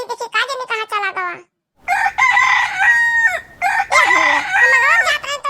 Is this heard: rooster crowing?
yes